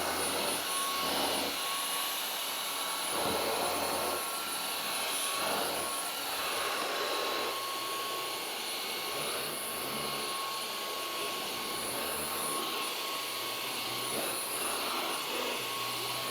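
Dreame H12 vacuum cleaner running suction with its upholstery brush, a steady airy whine with faint shifting rushes as the brush moves over fabric, continuous and fairly quiet, no voices.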